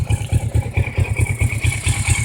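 A 2015 Kawasaki Versys LT motorcycle idling on its stock exhaust, giving a steady, even low thump with a faint mechanical clatter, close and alone.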